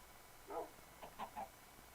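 Minecraft chickens cluck softly in a short run of quiet, clipped calls, a few quick clucks close together over faint background hiss, with no talking.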